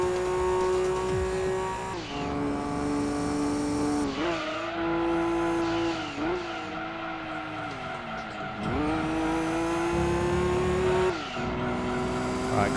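Race car engines in Gran Turismo 2 at Apricot Hill whine and rise through the gears, dropping in pitch at each shift, with bursts of tyre squeal and a steady loud drone.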